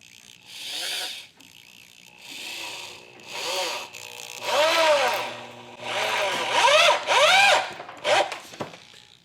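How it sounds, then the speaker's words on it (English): A cheap Hyper Tough corded drill drives a screw through a 2x4 in several separate whining bursts that rise and fall in pitch, growing louder toward the end, then a sharp final click. "it drove that screw clean through this 2x4"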